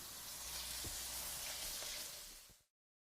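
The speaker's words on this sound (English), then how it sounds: "while that's frying up" A steady, bright sizzle of food frying in a skillet, close up and continuous, with a few light clicks before it cuts off abruptly.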